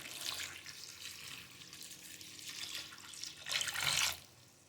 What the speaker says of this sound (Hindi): पानी डालेंगे 2 गिलास।